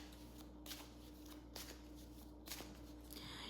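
Oracle cards being shuffled in a quiet room, giving soft papery riffles and flicks in several short bursts over a faint steady hum, with no talking.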